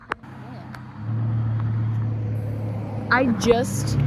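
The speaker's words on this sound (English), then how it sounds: "I know the cars are really loud" Cars pass on a road beside a cemetery, a steady rising traffic rumble that swells after the first second and holds, with a few brief voice-like sounds near the end.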